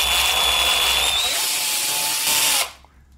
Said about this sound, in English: Now drill.